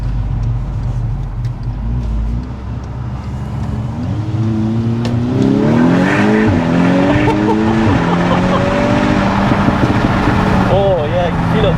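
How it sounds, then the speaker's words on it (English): A tuned Stage 2+ 367hp MK6 Volkswagen Golf R revs through its exhaust from inside the car, with rising engine tones and scattered crackling pops and bangs over a steady road rumble. "But the pops and bangs aren't obnoxious, are they?"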